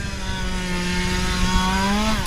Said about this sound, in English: A couple of workmen there just fired up a chainsaw